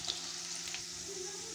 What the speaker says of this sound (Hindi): भुनने देंगे हम इसे अच्छे से ताकि लहसुन का सारा फ्लेवर इस ऑयल में